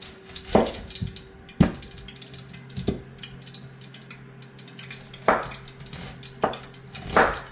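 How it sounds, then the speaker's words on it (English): A knife slices onion into tiny pieces on a board, a series of sharp, separate chops at an uneven pace, close and clear over a faint steady hum, with no talking. "we are going to be slicing some onion into tiny sizes"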